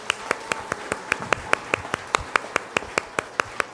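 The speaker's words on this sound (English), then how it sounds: "let's give the honorable mentions a big round of applause" Honorable mentions at a school science celebration get a round of applause, heard here as a single pair of hands clapping in a steady, even rhythm, close and fairly sparse with faint background murmur.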